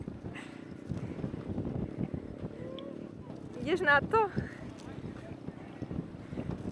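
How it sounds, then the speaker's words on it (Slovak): Strong wind gusting outdoors, roaring steadily into the microphone at close range, with people talking over it and a brief rise in the middle. "Strašne tu fúka."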